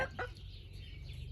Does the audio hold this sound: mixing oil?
no